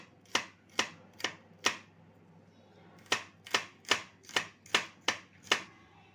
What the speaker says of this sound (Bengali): তো এখানে আদা রসুনটা আমি কুচি করে নেব।